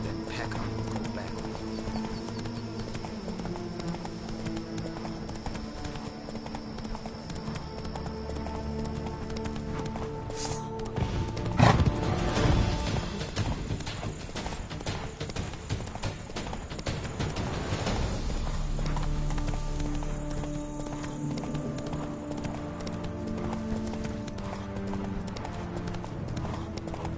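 Horse hooves clip-clopping at a steady trot in The Witcher 3: Blood and Wine, an even rhythmic patter under game ambience that briefly grows louder and busier midway, with a snort or whinny and some faint talk.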